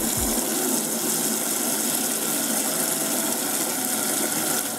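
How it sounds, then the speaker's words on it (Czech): Water drains from a membrane expansion tank in a home water system with the pump switched off, a steady continuous gush and hiss that stays loud and even throughout, close by, with no talking. "já jdu vypustit tu vodu."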